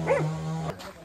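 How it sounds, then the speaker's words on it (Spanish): A dog barks once, close and loud, in a low-income neighborhood of Ushuaia, a single sharp bark followed by quiet. "los perros que hay acá"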